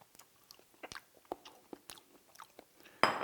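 Soft, close chewing of a bite of fresh raw salmon, wet little bites and mouth sounds in a quiet room, ending with a brief louder rustle.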